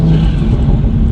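A 2020 Toyota Supra A90 accelerating hard out of a turn on a track, its engine a loud, steady close-up roar with a low rumble throughout the short burst.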